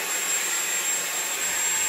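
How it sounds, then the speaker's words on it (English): A Shark Vertex corded ultralight vacuum cleaner runs with a steady, loud, close roar and a thin high whine held throughout, with no pauses or talk. "this is definitely isn't your average vacuum"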